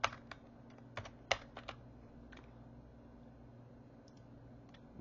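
Computer keyboard typing in a quiet room: a few sharp clustered keystrokes near the start, then sparser, fainter clicks over a steady low hum, with no voices.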